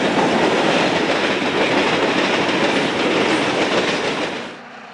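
An Illinois Central freight train led by two SD20 diesel locomotives passes near Effingham, Illinois, in 1990, with a loud, continuous rumble and rhythmic clickety-clack of wheels that holds steady before fading away at the end.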